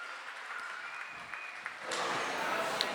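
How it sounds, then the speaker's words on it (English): Wedding guests giving a round of applause, a soft, diffuse clapping that swells louder partway through, heard at a distance. "Another big round of applause for Selena and Laura"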